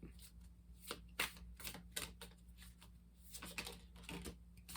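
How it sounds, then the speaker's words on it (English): Tarot cards being shuffled up close, a run of quick, crisp riffles and flicks in an uneven rhythm, quiet and without speech. "we're gonna start by doing some shuffling, and we're gonna pull 6 tarot cards"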